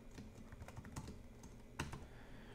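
Typing on a computer keyboard while code is entered for a Raspberry Pi text-message tutorial: a steady run of quick, light key clicks, close to the microphone, with one sharper, louder keystroke near the end and no voices.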